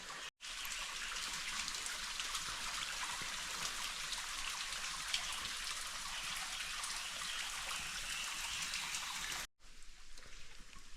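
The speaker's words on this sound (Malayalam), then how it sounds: "ഇതാണ് ഗൈസ് വെള്ളച്ചാട്ടത്തിൻ്റെ താഴത്തെ പോർഷൻ." At the base of Pung Iyer Falls near Cherrapunji, water rushes and splashes continuously in a dense, even roar, broken only by two brief cuts, with no voices.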